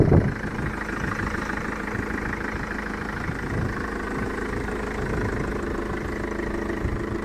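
A Mercedes W211 diesel engine idles steadily up close, a low rumbling clatter with an even rhythm and no talk.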